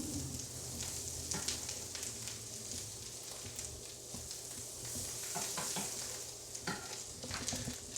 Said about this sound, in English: we're just going to quickly sear our tuna